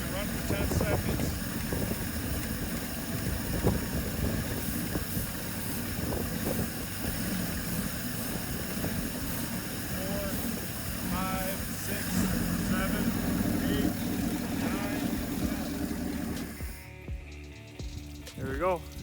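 A True inboard V-drive boat engine idles after de-winterizing, a steady low rumble running throughout with people talking over it before the sound cuts off near the end.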